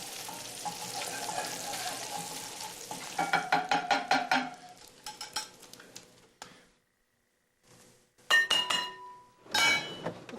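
Bacon frying in a pan with a crackling sizzle, broken up by clinks and stirring of utensils against dishes and pans, with stretches of near silence.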